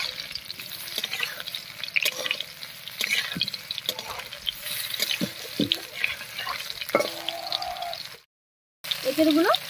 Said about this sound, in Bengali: এবার এঁচোড়গুলো ভেজে নেব।